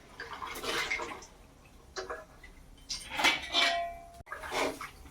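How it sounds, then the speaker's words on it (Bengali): Someone washes new potatoes in water in a home kitchen, making soft splashes and clattering them against a pot or bowl in short, irregular bursts at low volume. "আলুগুলো ধুয়ে নিচ্ছে।"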